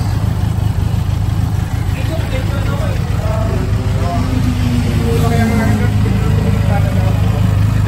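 A Benelli TRK 502X adventure motorcycle with spoke wheels idles with a steady, continuous low engine rumble throughout, while someone talks over it.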